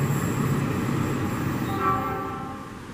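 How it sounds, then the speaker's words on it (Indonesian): A KCIC feeder commuter train pulls away from a station, a steady rumble of wheels and running gear with faint tonal whines rising and fading as it departs. "Komuterland nih berangkat dari stasiun Gado Bangkong"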